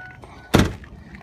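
Power door locks on a 2003 Ford diesel work truck actuating, a single short, sharp thunk close by against a quiet background.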